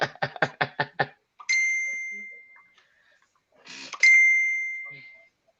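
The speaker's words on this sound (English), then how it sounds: "Oh, my phone goes 10 to the dozen, 10 to the dozen. I'm hearing ping, ping, ping, ping." Mobile phone notification sounds ring out close and clear: a rapid run of six short knocking taps, then two bright ringing pings with a lingering tone.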